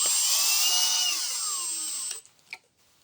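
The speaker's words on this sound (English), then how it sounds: "Grab the drill. I'll put it on one because this is just going into plastic." A power drill on a low setting whines steadily for about two seconds while driving into plastic on a Poulan chainsaw, winding down as it stops, followed by a couple of faint clicks and a brief rattle.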